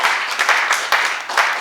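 Audience applause at a Korean political gathering, a brief burst of clapping with a few sharp individual claps standing out, fairly close and loud.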